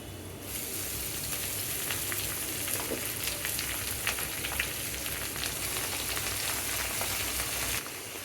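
Green leafy vegetables frying in a pan with plenty of chopped garlic, a steady close sizzle and crackle running throughout with faint stirring taps.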